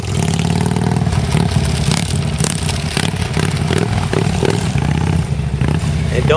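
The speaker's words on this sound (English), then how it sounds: "He's constantly blipping that throttle." A Harley motorcycle engine runs loud and close, its throttle blipped again and again so the rumble keeps surging and dropping without settling to idle, with some mechanical clatter.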